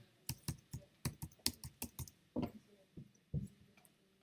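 Close, crisp clacks of typing on a computer keyboard come in an uneven rhythm of quick bursts and short pauses, about a dozen key strikes in all.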